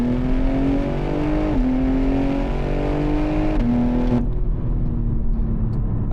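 A BMW M3 Touring G81 with a BERK Performance single mid-pipe exhaust, warmed up, runs in a steady, loud engine drone with rising and falling revs before the note settles lower, heard close with no talk.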